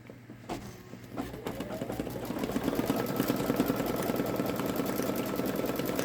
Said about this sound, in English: the next thing it will stitch is the satin stitch around the flower